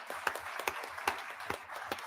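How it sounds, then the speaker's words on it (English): Applause from the audience at a Brevard County school board meeting, a steady patter of many hands clapping at moderate distance, with sharper individual claps standing out at a loose, irregular rhythm. "Big round of applause for you, Miss Dampier."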